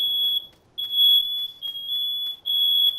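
A smoke detector in a farm game sounds a series of long, loud, piercing high beeps separated by brief gaps, with no talking.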